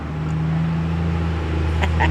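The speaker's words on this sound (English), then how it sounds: "that's a loud truck" A loud truck passes close by, its steady low engine rumble and drone filling the whole stretch, with a little higher road noise near the end.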